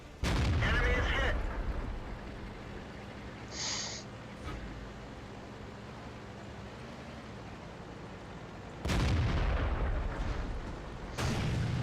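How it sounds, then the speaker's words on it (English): Heavy artillery booms from a tank battle in World of Tanks, two or three loud, sharp blasts separated by quieter ambient rumble, with a brief higher mechanical chirp in between. "And the artillery takes him out,"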